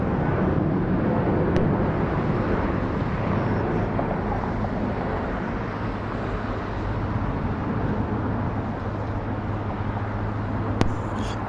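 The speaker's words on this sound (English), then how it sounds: "This is a 269-mile, 50-minute trip for these passengers aboard an aircraft Boeing 737-932, 3 years of age." A Delta Boeing 737-932 roars steadily at Atlanta's airport, a continuous broad engine rumble with wind noise that holds level throughout and seems fairly distant.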